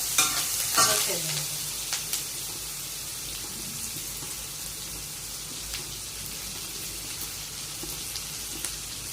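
Onion, chana dal and urad dal fry in hot oil for South Indian lemon rice, giving a steady, close, bright sizzle with a few stirring scrapes near the start, then continuous crackling throughout.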